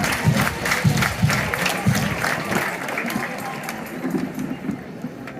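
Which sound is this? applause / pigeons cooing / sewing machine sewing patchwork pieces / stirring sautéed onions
applause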